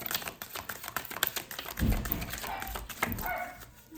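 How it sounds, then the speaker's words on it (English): A pet dog lets out several sharp barks and yips close by, with clicking and thumping sounds around it. "Excuse my crazy dog, y'all."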